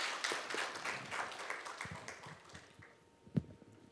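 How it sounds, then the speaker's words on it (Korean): Applause from a conference audience welcoming two speakers at a closing session on local diplomacy for trade and investment, scattered and fading claps that taper off, ending with one sharp louder clap. "두 분께 다시 한번 큰 박수로 환영해 주시면 고맙겠습니다"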